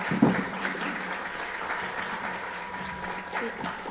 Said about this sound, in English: let's give these people a real hand of applause